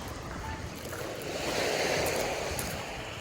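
Waves wash along a seashore at rising tide while someone walks the beach, a steady broadband surf roar with wind buffeting, swelling slightly midway and staying fairly distant.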